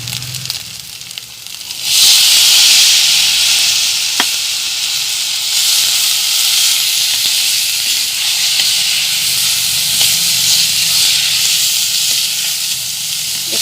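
Green peas tossed into green masala start frying with a sudden loud sizzle and hiss that holds steady, after a quieter stretch of stirring and faint crackle; no talking over it.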